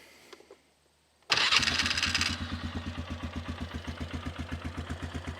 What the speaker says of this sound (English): she's a good running engine. Sounds great.